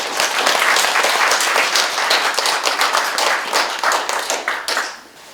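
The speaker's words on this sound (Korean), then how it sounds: "심상정 위원님 큰 박수로 부탁드립니다" Forum audience at a debate on housing conditions claps for Sim Sang-jung, a loud burst of many hands with distinct sharp claps that carries on steadily before thinning and fading out near the end.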